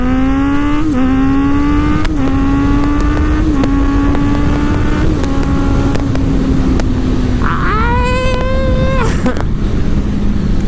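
A Kawasaki Ninja ZX-6R motorcycle engine revs hard through a series of quick manual upshifts, each shift a brief dip before the pitch climbs again, loud and close with steady wind noise, then a sharper rev near the end.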